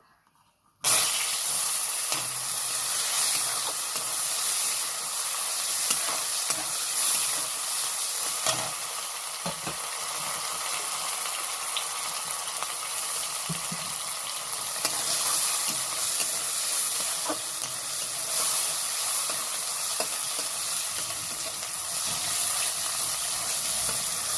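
Tomato drops into a hot pan for a Bengali mung dal with fish head, setting off a loud, steady sizzle and hiss of frying that runs continuously, with occasional stirring scrapes.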